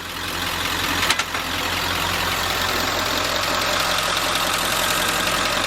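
A 1946 Ford truck engine runs steadily at a low, rough idle with a loud, even rumble throughout, close by, and one brief clunk near the start.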